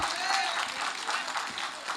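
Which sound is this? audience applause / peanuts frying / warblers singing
audience applause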